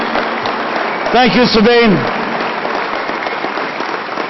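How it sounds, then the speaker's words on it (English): Convention audience applauding in a large hall, a steady broadband wash of clapping throughout, with a voice briefly speaking over it. "maybe we'll just hold off on the applause until all 6 speakers are done"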